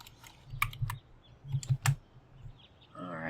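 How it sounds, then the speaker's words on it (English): Several light, quick clicks of a computer keyboard being typed on, a short burst of separate taps close by in a quiet room, ending with a brief voiced sound. "I'm going to type a 13 into our spreadsheet"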